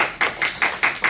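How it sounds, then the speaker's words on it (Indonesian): About six sharp hand claps in an even, quick rhythm, close and fairly loud, with no talking over them. "tepuk tangan dong buat USMR."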